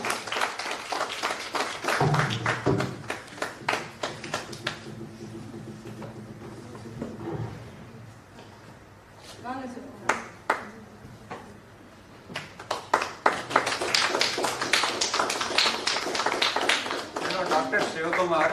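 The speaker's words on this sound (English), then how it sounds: "So give a big round of applause." A large audience breaks into dense, sustained clapping at a university Teacher's Day celebration, with bursts at the start and a strong, lasting round near the end, and a voice speaking over a PA in between.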